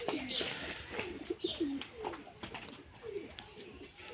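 A red Lal Dom pigeon of the Elahabadi type coos close by in a series of soft, repeated throaty rolling calls, with a voice talking over it.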